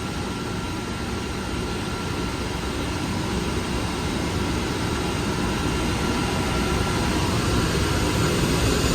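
A ship's auxiliary engine runs loud and close beside the fuel changeover panel in the engine room, a dense, steady mechanical drone with a constant hum that never lets up.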